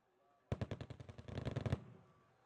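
Machine guns fire in the war strategy game Wargame: Red Dragon, two sharp rapid bursts of about a dozen close, punchy rounds each, beginning abruptly and fading into a short echoing tail.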